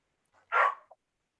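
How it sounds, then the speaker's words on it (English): A single dog bark heard during a virtual budget meeting, short and fairly close, standing alone against silence. "Okay, who's got the dog?"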